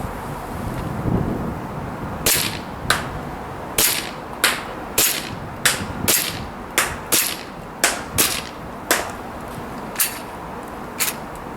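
EMG BLU Compact gas blowback airsoft pistol firing 0.3 gram BBs outdoors at 30 meters in cold weather: a steady string of about fourteen sharp, snappy shots at a moderate pace, with light wind noise between them.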